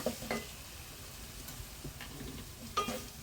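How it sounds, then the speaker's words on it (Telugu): Ginger sizzling softly in a pan with oil, a quiet steady fry broken by a few brief stirring scrapes near the start and end, no talk. "అల్లం పచ్చివాసన పోయేంత వరకు వేయించుకొని"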